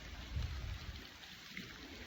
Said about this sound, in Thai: มาฝนตก